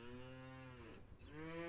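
A cow in a farming and supermarket simulator game gives two drawn-out moos back to back, clear and fairly close, with no talking.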